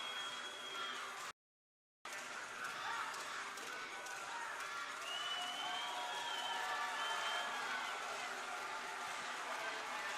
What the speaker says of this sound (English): Denisov applauds the Russian crowd for their support.